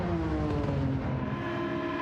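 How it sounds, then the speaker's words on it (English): Nissan 370 with a VQ engine revs in a racing video game, a loud sustained harmonic engine drone with steady pitch, dense and close, no voices. "Sounds like there's a VQ engine up."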